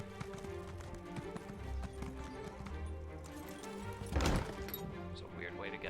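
Horse hooves clip-clop in a steady rhythm while riding in the video game Elder Scrolls Online, close and moderately quiet, with a louder thump near the end as the rider dismounts.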